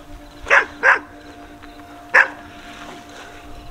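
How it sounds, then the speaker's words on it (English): Junkyard dogs at an old-school classic car salvage yard bark three times in loud, close bursts, two in quick succession and then a third after a pause, with no talk over them. "Got some junkyard dogs after me."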